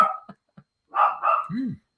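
A pet dog barks at an outside noise, a few sharp barks and yips close by with short gaps, ending in a rising, whining howl.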